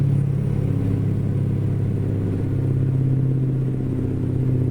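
Caterpillar 3208 diesel in an International F 5080 truck in American Truck Simulator, lugging steadily up a hill without a downshift: a continuous low, loud droning rumble with a steady engine hum throughout.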